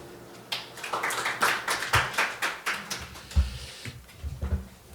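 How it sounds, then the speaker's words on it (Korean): Scattered hand claps at a forum opening ceremony welcome a presenter, irregular and fairly close, thinning out toward the end with some low thumps and shuffling. "큰 박수로 환영해 주시기 바랍니다"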